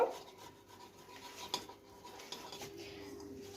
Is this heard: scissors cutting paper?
no